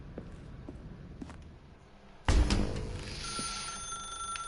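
A telephone rings in The Stanley Parable game, bursting in loud and near after a quieter stretch of ambient hum with a few soft taps, then ringing on steadily to the end.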